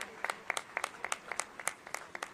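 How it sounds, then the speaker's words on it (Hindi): Audience clapping at a Veda award ceremony in Ayodhya, a modest, fairly quiet round of applause with distinct individual claps standing out in an uneven rhythm throughout. "तालियों की गड़गड़ाहट से हम आपको बधाई देते हैं।"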